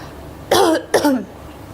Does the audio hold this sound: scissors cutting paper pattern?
no